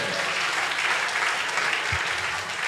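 Audience at a live startup cohort session clapping, a steady dense round of applause that continues throughout with no talk over it.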